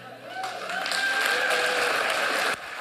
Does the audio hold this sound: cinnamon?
no